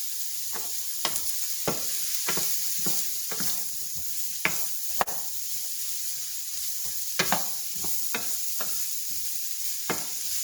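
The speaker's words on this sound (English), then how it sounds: "Now we're going to keep this cooking over medium heat." Celery, peppers, onion and garlic sizzle over medium heat for dirty rice, with steady frying hiss and repeated scraping strokes of a spoon stirring the pan, fairly close, no talk.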